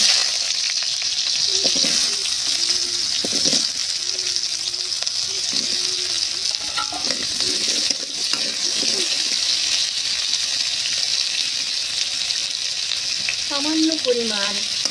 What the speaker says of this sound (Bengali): রান্না শুরু করার আগে আমি সামান্য তেল দিয়ে ওলটা কষিয়ে নেব।